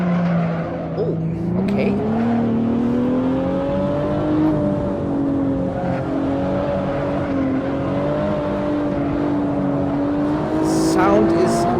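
A BMW 1 M Coupe engine in a racing video game drones and rises steadily in pitch, with a brief tire squeal and a short spoken remark over it.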